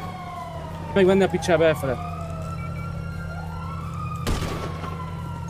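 A police car siren wails through a zombie apocalypse roleplay game, a steady rising and falling tone under a low engine drone, with someone briefly talking over it and a sharp burst of noise near the end.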